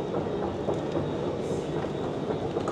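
A first-class train on a route to Holland rumbles at the platform, a dense, steady low roar with faint clatter all the way through and no talk.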